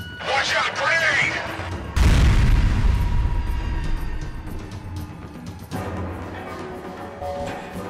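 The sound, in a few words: grenade explosion, from the video game FEAR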